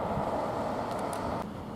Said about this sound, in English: Now we've got a train leaving from Romford, Greater Anglia.